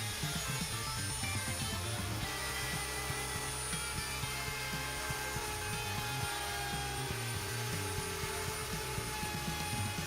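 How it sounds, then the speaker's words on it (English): A router fitted with a roller bearing bit trims vinyl flooring flush with a plywood edge in a Ram ProMaster camper van, giving a loud, continuous high whine and roar that holds steady throughout with no speech. "My plan is to use the router to cut the vinyl even with the plywood edge."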